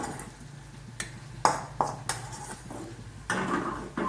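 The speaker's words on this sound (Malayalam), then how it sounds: "ഈ ഇടിയെല്ലിട്ട് ഇടിച്ചെടുക്കാം." A pestle strikes sautéed ingredients in a mortar while a chutney powder is made, giving a few sharp, separate knocks with metallic ringing, spaced irregularly over a low kitchen background.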